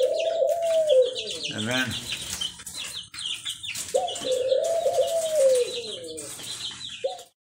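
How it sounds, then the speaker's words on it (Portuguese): A dove coos from its nest up high at a country smallholding with a bird aviary, several drawn-out rising-falling coos repeated clearly and close, with a person briefly speaking. "A pombinha cantando. Ela tá lá no ninho, lá em cima cantando."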